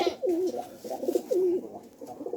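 Pigeons coo nearby in a loose rhythm of three or four throaty, rolling calls over about two seconds, with no talk.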